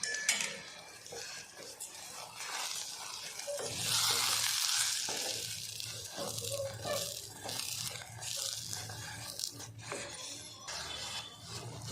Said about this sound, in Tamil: 3/4 கப் அளவுக்கு சுகர் சேர்த்துட்டு நல்லா கலந்து விட்டுருவோம்.